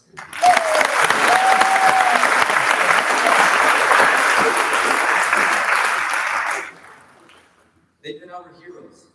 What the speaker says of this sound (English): let's give a round of applause to all the teachers and staff who've been with us.